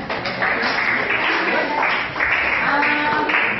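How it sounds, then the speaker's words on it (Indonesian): Steady classroom applause for two students fills the whole stretch, dense and fairly loud, with clapping hands blending into a continuous wash and faint voices mixed underneath. "tepuk tangan buat Asti dan Zorit ya"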